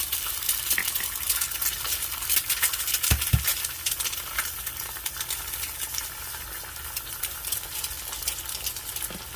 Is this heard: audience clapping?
no